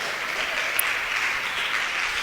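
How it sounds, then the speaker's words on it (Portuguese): A church congregation claps hands loudly together, a dense, steady wash of applause from many people with no talking. "Pode bater as palmas bem forte."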